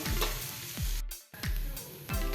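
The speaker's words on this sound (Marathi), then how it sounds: "आता ह्याच्यामध्ये आपण जी हळद आणि हे सगळं जे फ्राय करून घेतलेलं आहे ते घालूया आणि मिक्स करूया" A fried mixture of fresh turmeric is stirred in a pan: soft sizzling broken by several scraping strokes of a spoon, with one brief silent gap partway through and no speech.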